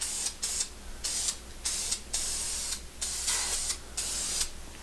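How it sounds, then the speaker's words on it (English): Short bursts of spray paint fogging red enamel onto stock iron cylinder heads for a 350 small-block Chevy, about eight evenly spaced hissing passes with brief pauses, close and moderately loud. "When it comes to this electric enamel paint, you need only fog it on."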